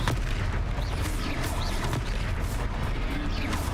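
Loud clustered crashes and bangs as the Confringo fire-blast spell strikes during combat in the video game Hogwarts Legacy, a busy, dense barrage of impacts with no speech.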